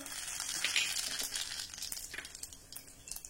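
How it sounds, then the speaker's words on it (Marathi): Mustard seeds sizzle and crackle in hot oil in a wok, with a bright frying hiss and scattered pops. The pops thin out toward the end. "तेल गरम झालं की त्यामध्ये थोडी मोहरी घालूया।"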